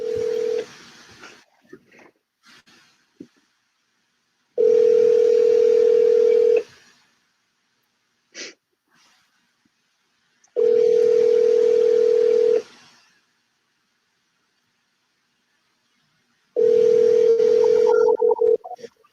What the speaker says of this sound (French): je vais juste l'avoir au téléphone